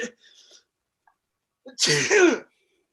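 A single sharp sneeze bursts out close by after a moment of near silence, preceded by a faint breath.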